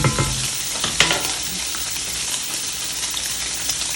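Jambalaya bubbling and sizzling in a pot on the stove, a busy close crackle with occasional spoon clinks and stirring knocks.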